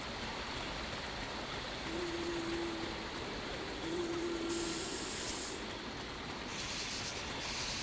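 Bug spray in the video game Escape from Bug Island, a steady loud hissing spray that runs continuously for several seconds with slight swells, heard alone.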